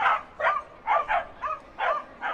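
Corgis bark repeatedly at a Bark in the Park dog race, with about six short, bright yips coming in quick irregular bursts, fairly close and clear, with no voices over them.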